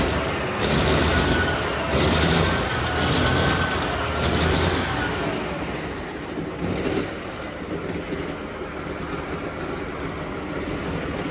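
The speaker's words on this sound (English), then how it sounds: "give it a few revs." The Cummins engine in a CVRT Sultan armoured vehicle, running for the first time in about twenty years, revs with a loud, dense roar that swells for several seconds and then settles to a steadier drone.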